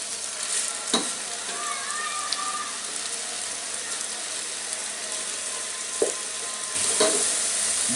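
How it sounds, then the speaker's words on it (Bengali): Onions and potato pieces fry in a pan for a pea and potato vegetable pulao, giving a steady close sizzle with a few sharp stirring clinks. "দিয়ে আলুগুলাকে একটু ভেজে নিব, তাহলে পেঁয়াজটাও ভাজা হয়ে যাবে"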